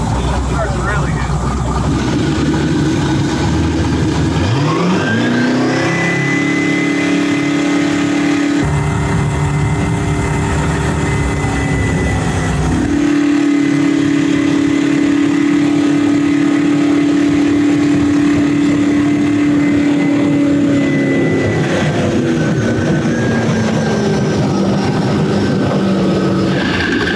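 A twin-turbo LS-powered jet boat runs on the water, its engine roaring up through rising pitch sweeps, settling into a steady drone, then surging again. A voice is heard over it.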